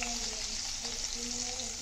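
Garlic and green chili hit hot oil with asafoetida, giving a steady, close sizzle with light stirring throughout a home cooking tadka.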